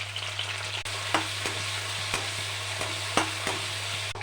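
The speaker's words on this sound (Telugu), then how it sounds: "ఆయిల్ హీట్ అయిన తర్వాత మిర్చి వేసుకోండి." Green chillies frying in hot oil in a kadai, a constant dense sizzle with a low hum beneath and regular scraping strokes of a spatula, nobody speaking.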